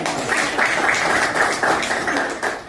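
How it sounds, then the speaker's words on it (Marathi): An audience at a farewell ceremony claps for Sandeep in a dense, sustained round of applause that swells and eases over a few seconds. "संदीपसाठी एकदा जोरदार टाळ्या"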